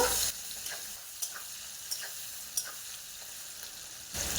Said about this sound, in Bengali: তেলের মধ্যে পেঁয়াজ কুচি দেব কিছুক্ষণ ভেজে নেব